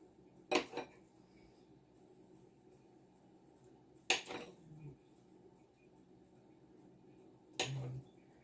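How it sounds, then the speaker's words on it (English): Three separate, quiet knife cuts through canned Spam-style luncheon meat, each one a brief crisp strike on a cutting board, with long pauses between the slices. "We're gonna cut this into 6 slices too."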